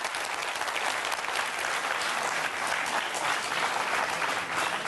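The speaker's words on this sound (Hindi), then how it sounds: "अब आपको एतबार हो गया हो तो जरा उस बच्चे के लिए जोरदार तालियां बजाइए" Loud, sustained applause from a large crowd, dense steady clapping throughout with no pauses.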